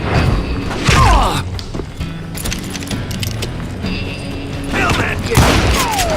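Gunfire erupts in a Call of Juarez shootout at a camp outside Parachute, Colorado, with sharp repeated bursts and thuds at the start and again near the end, all over steady game background noise and brief speech.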